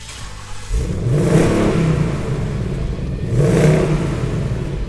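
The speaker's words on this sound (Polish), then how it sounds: "przynajmniej można było sobie trochę posłuchać V8" A V8 car engine in a garage starts with a sudden roar, then revs up twice in swelling surges, loud and close with a deep rumbling drone between the peaks.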